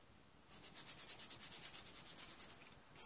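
Rapid back-and-forth rubbing of fingernails with alcohol to strip polish, a close, quiet scrubbing rhythm of about twenty quick strokes lasting two seconds.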